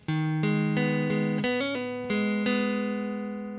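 Solo guitar riff with steady alternate picking, each note struck evenly and ringing, a brief run of quicker notes midway.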